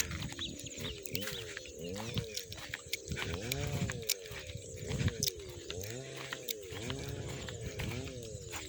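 Cattle and other farm animals mill about a cow pen on a farm, with repeated calls and lowing rising and falling over a busy outdoor background, fairly faint.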